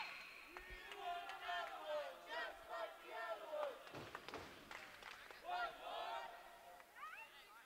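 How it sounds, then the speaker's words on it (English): A basketball fan section at a women's college game cheers loudly during free throws, with voices rising and swelling in waves of crowd noise, shouts and brief clapping behind play-by-play commentary. "if you hear that behind me, folks, that's a great fan section"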